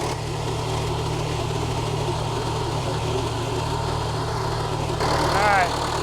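Case 1840 skid steer engine running steadily at about quarter throttle, a low constant hum that holds throughout, with a brief higher chirp near the end.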